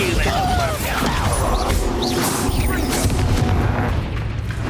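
Bombarda explosion spell cast in the Hogwarts Legacy video game, with booming, crashing blasts packed into a loud, continuous battle din while voices call out over it.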